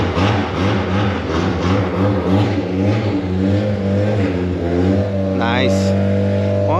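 A Honda car engine cranks and then revs at a car show, a steady close idle rising in throaty pulses with a brief whirring starter burst near the end, while people talk over it.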